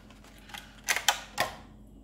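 An XTAR BC4 battery charger's package is opened at close range, with a few quick crisp plastic-and-cardboard clicks and rustles over a quiet background.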